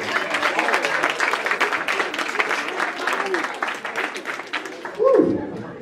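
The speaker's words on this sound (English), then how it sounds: "Give a round of applause, ladies and gentlemen" An audience claps steadily at a comedy hypnosis show at a university, a dense, moderately loud round of applause with a sudden whoop or shout near the end.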